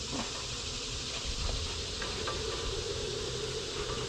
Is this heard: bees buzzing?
yes